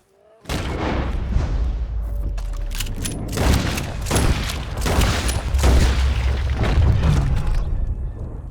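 Gunfire and heavy booms in the Red Dead Redemption II video game, a dense, loud barrage of repeated shots and blasts that runs continuously for several seconds.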